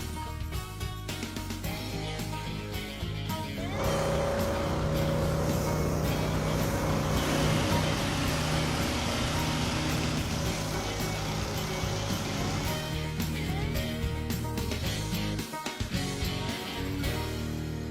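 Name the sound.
1952 Jeep being dragged in on a chain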